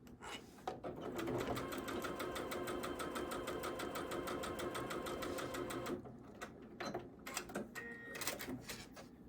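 A sewing machine runs steadily for about six seconds, stitching small quilt block squares together, then stops, followed by a few short bursts and handling clicks nearby.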